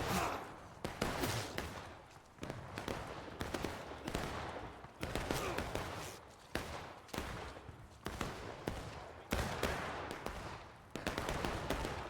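Musket volleys from a historical battle video game: repeated heavy rolling salvos of many overlapping gunshots, each burst sharp at onset and trailing off, loud and close, recurring every second or two with little talk.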